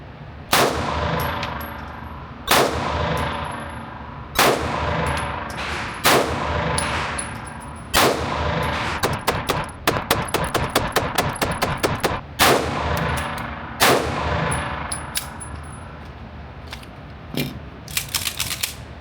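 A Springfield Prodigy Comp pistol with a gunky slide fires loud, sharp shots, first singly at spaced intervals and then in quicker strings, each crack ringing out with metallic pings between them.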